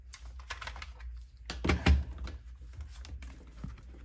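Someone typing on a computer keyboard up close, quick irregular bursts of key clicks with a heavier clatter near the middle, no speech.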